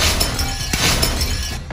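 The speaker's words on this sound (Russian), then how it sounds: "это лопнул верхний слой" A top layer of glass cracks under poured molten lava, a sharp brittle crackling and shattering that stays loud and continuous over a hissing wash of sound, with a final crack at the end.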